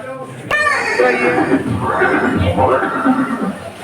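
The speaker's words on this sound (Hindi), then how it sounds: "ये दृश्य महाराणा प्रताप और सुविख्यात स्वामी भक्त घोड़े चेतक के अंतिम मिलन का है।" Horse neighing, attributed to Maharana Pratap's horse Chetak, a loud whinny with a sharp onset that carries on in wavering calls under a dense dramatic backdrop.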